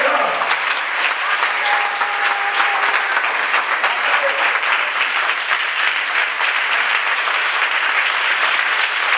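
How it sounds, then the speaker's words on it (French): A church congregation applauding together, a loud sustained wash of clapping at a spiritual revival gathering, with faint voices mixed in. "Acclame toi-même d'abord. Et puis acclame le Seigneur."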